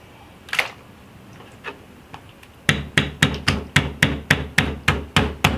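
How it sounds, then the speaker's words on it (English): A wooden pastry roll beats a raw octopus before grilling, starting with a few scattered soft knocks, then settling into a steady run of about ten sharp, evenly spaced thwacks close by, with no talk. "I will use my pastry roll, okay, to beat the octopus just before cooking"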